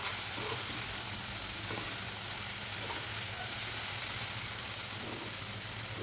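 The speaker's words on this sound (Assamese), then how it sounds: "এনেদৰে শুকান শুকানকৈ কিছু সময় মানে চিমত দি ভাজিম" Finely chopped onion dry-fries in a pan over low heat without oil, giving a steady, soft sizzle that runs alone throughout at an even level.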